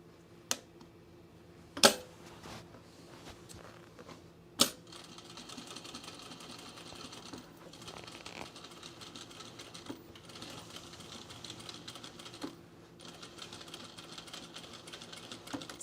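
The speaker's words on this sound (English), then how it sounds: "proof you can sew very slow on an industrial" An industrial sewing machine stitches very slowly through a rug, a faint, steady mechanical patter broken by a few sharp clicks and knocks early on, close by and without talk.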